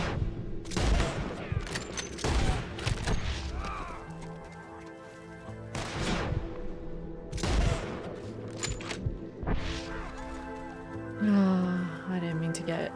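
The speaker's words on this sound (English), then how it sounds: "Who's shooting me?" Gunfire in the video game Red Dead Redemption 2: repeated loud shots and short volleys crack out at irregular intervals, mixed with horse sounds and a voice talking over the action.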